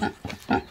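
A tiny 45-pound pig gives two or three short, close grunts in quick succession.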